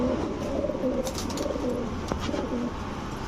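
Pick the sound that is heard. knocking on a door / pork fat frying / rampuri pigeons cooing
rampuri pigeons cooing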